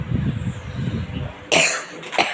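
A person with a cold coughing nearby: low background murmur, then one loud harsh cough followed a moment later by a second shorter one.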